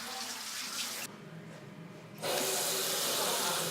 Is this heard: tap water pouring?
yes